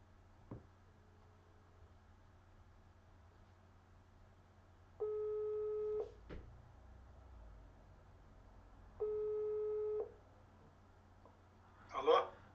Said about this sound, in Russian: Давайте сейчас я наберу, он мне сегодня звонил и хотел пообщаться.